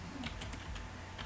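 Light, quick keystrokes on a computer keyboard, several clicks in an uneven run, soft and close with no talk.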